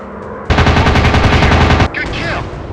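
A fighter plane's guns fire one loud, rapid burst lasting just over a second in an airplane war video game, followed by quieter game sounds.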